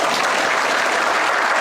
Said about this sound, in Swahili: Wapi makofi ya rais?